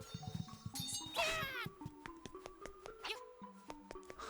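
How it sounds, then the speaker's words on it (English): Meows from a cat in the Zelda: Link's Awakening video game ring out among synthesized game music tones, a short burst of cat cries near the start followed by another brief cry, all quite faint. "There's like a cat or something in here, but I don't know where."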